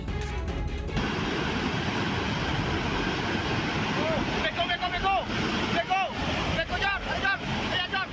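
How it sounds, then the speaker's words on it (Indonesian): A cold lahar mudflood of volcanic debris rushes down a river on Mount Semeru after heavy rain, a loud, churning roar with gusty wind buffeting the microphone and scattered shouting voices over it. "Banjir lahar hujan Gunung Semeru terjadi setelah wilayah puncak Gunung Semeru diguyur hujan deras."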